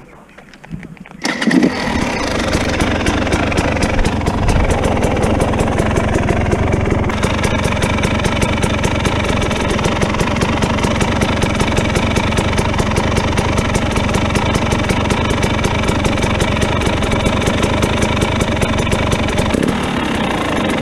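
A Derbi 70cc moped engine starts after a brief attempt, then settles into a loud, close, steady buzzing idle that continues without pause.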